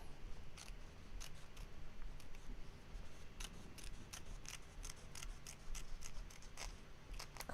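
Scissors snip appliqué fabric during machine embroidery, with quiet, closely spaced cuts in irregular clusters over faint background noise.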